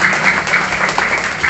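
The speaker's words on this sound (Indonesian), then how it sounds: "Tepuk tangan lah dulu." Mosque audience at an Isra' Mi'raj gathering clapping together, a dense continuous burst of applause that stays loud and even throughout the short moment.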